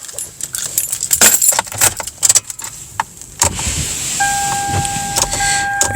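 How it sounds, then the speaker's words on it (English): Car keys jangle close up in several quick bursts outdoors in blizzard weather. A steady hum with a thin tone then takes over. "let me get my keys out"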